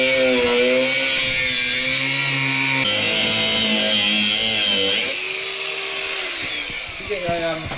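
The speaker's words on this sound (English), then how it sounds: "Grinder. Yeah. I've got a grinder. Yeah, let's grind it off." An angle grinder cuts through a shock absorber sleeve on a Land Rover Defender 110, a loud, continuous whining buzz with a shifting pitch that drops away near the end, with voices talking over it.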